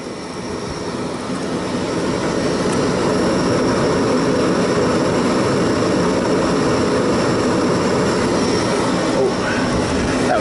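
A Lennox GCS16 rooftop heating unit runs with a continuous loud mechanical roar and hum from its fan and motor, steady throughout after a slight rise at the start, with no talking.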